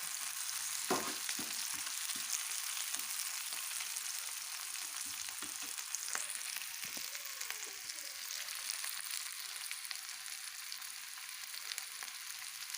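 Onions fry in hot oil in a wok with a steady close sizzle, broken by intermittent scraping knocks as they are stirred, continuous and fairly loud with no talking.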